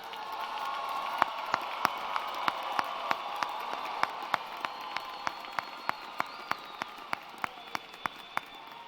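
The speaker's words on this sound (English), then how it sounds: "let's give this graduating class another round of applause" Crowd applause for a graduating class at a fall commencement ceremony, a broad wash of clapping with a few louder individual claps ringing out sharply and evenly spaced above it.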